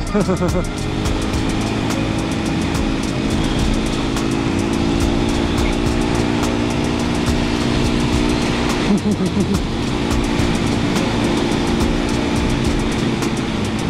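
Motorcycles, including a Triumph, on a sunny group ride in Townsville, heard as a continuous loud engine drone with steady rumble and wind noise throughout.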